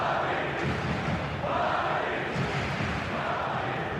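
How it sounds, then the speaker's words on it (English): Stadium crowd roaring in the football video game eFootball 2025, a dense, steady wall of cheering and noise that swells slightly midway and holds loud throughout with no clear commentary on top. "the crowd level has gone up a notch or 10"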